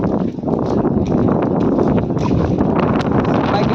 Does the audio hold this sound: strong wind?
yes